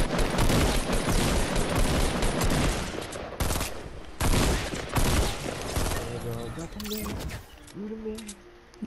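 Dense bursts of automatic gunfire from the Fortnite video game rattle almost continuously, then break into separate shots near the end, with players' excited voices mixed in.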